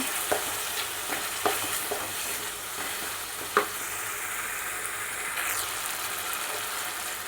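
Garlic cloves frying in hot oil in a pan for a plantain masala curry, a steady close sizzle with a few sharp pops and stirring clatters throughout.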